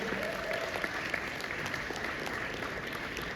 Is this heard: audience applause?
yes